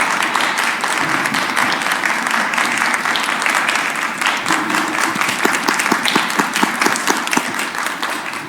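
A room applauds a school board president at a district board meeting, with steady, loud, continuous clapping that gets slightly more distinct and rhythmic toward the end.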